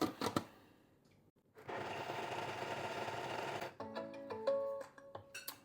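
Lemon drizzle cake batter with milk is mixed in a steady whirring burst of about two seconds, with scattered clatter and knocks before and after.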